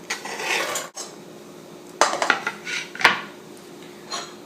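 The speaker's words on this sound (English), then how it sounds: "The onion is chopped up, so we can put it in the pot." Chopped onion tumbles into a pot with scattered clinks and scrapes of a utensil against metal, a few sharp knocks standing out against a quiet kitchen background.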